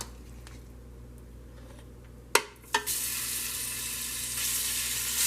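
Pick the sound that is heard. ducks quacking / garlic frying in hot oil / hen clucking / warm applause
garlic frying in hot oil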